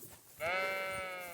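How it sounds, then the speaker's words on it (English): In Kingdom Come: Deliverance II, a single sheep lets out one sustained, wavering bleat that begins abruptly after a short quiet moment and holds steadily, close and loud, before fading slightly. "Sheep. So many sheep."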